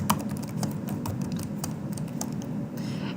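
Quick keystrokes on a computer keyboard as a search is typed in, a steady run of light close taps over a low background hum, with no talking.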